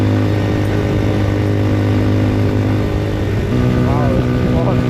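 A Papio SS mini motorcycle runs at full throttle through its gears, a loud, close, continuous engine drone with steady harmonics and a brief pitch shift near the end.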